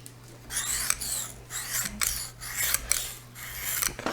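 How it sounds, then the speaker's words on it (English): Repeated rasping strokes of a Lansky sharpening stone along a knife blade, about eight even scrapes in a steady back-and-forth rhythm, close and fairly quiet. "It'll have a different sound as the stone goes across the blade"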